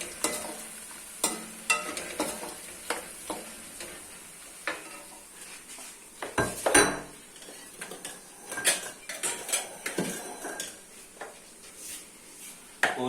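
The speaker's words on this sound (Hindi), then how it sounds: "सूखे धनिया को भी थोड़ा सा रोस्ट कर लेंगे" Whole white cumin and dried coriander seeds roasting in a pan for a bhindi aloo dish, with a light, steady sizzle broken by repeated scraping and clinking of a spoon against the metal pan.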